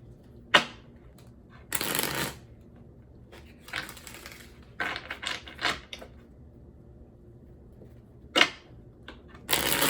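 Oracle cards are shuffled by hand before a card is drawn, in several short riffling bursts separated by quiet gaps, close and crisp, with no talk.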